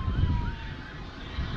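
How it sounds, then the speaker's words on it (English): A faint ambulance siren wails in the distance, its slowly sliding tone half-buried under steady wind and low rumble outdoors. "right behind the ambulance"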